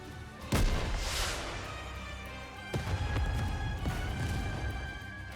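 A rocket launcher fires a shell that explodes across a snowfield in the game Goddess of Victory: Nikke, giving a sudden loud boom with a long rumbling tail, followed by two further heavy thuds over a steady background.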